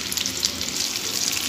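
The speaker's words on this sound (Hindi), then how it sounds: "और इस साइड को हम दोबारा से फ्राई करेंगे।" Vetki, Asian sea bass, fries in a pan, giving a steady, soft, crackling sizzle throughout with no talk.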